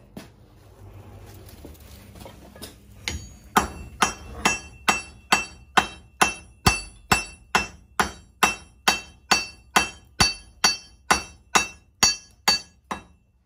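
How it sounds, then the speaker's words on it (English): Hammer blows ring out during forge welding of a hand-forged lock plate. Around twenty sharp, evenly spaced metallic strikes sound close and loud, after a few seconds of low rumble. "And we will weld in from this side next."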